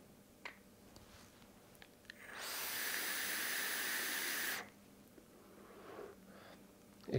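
A Fountain V2 vape device running at 35 watts gives off a steady, loud hiss of vapor for about two and a half seconds, with soft handling clicks before and after.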